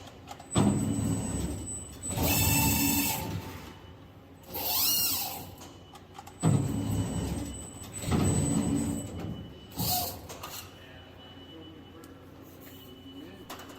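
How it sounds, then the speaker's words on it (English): A sheet metal folding machine at work in a factory, making long loud mechanical surges with whirring and hissing bursts that come and go in several stretches. Quieter pauses fall between the bursts, and no one talks. "The machine then automatically lines up the sheet before it starts folding."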